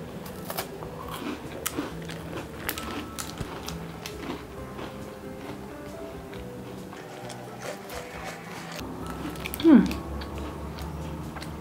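Someone bites into and chews a whole-grain Club Social cracker with a cream-cheese filling, producing close, soft crunching and mouth sounds over several seconds, with one sharper bite near the end.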